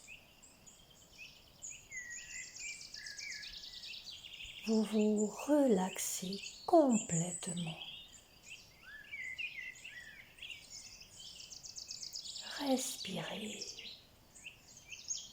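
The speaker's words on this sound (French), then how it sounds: "et ces chants d'oiseaux" Countryside birdsong carries on throughout, with high chirps and trills in the background, while a calm voice speaks softly over the middle and again near the end.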